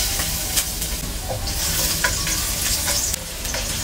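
Garlic sizzles in a hot pan for a sardine dish, a loud, close, continuous crackling fry broken by occasional scrapes of stirring.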